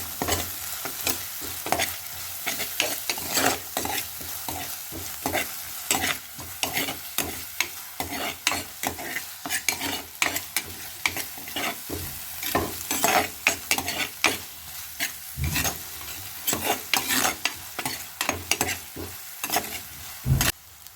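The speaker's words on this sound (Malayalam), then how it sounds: "ഉപ്പിട്ടതിന് ശേഷം ഇളക്കി കൊടുക്കാം" A spoon stirs sliced onions with salt as they fry in a pan for sardine curry: repeated scraping strokes in an irregular rhythm over a soft continuous sizzle, close and fairly clear, with no speech.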